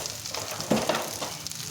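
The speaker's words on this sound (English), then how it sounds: "Just break it up with your spatula" Rice fries in a hot pan while a wooden Kenyan cooking stick breaks it up, a soft steady sizzle with a few scraping stirs and taps against the pan.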